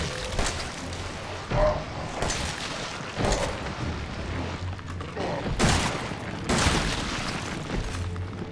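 Gunshots in the survival horror game Resident Evil 7, a scattered series of heavy booming shots spaced irregularly over a dark, rumbling background.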